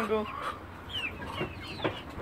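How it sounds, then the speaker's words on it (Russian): Chickens cluck and squawk close by in short, uneven bursts over steady low background noise. "Такие у нас это, куры."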